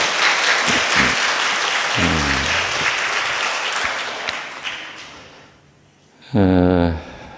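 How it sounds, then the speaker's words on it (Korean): A church congregation breaks into applause, dense clapping that fades out, followed by a short burst of voices. "박수를."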